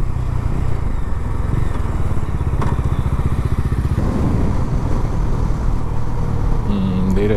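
A Bajaj Dominar 250 motorcycle with about 22,000 km on it drones loudly and steadily while being ridden, with a brief shift in engine tone partway through and rushing wind throughout.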